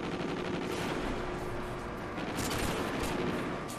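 Rapid gunfire in a multiplayer shooter video game, a dense continuous burst of shots under steady game noise, fairly loud, with no clear speech.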